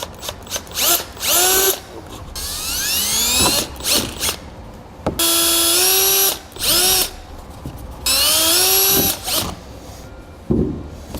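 A power drill whines up and down in repeated bursts, drilling holes in the bed of a 2015 Chevrolet truck, close and loud, with the motor pitch rising and falling between short pauses.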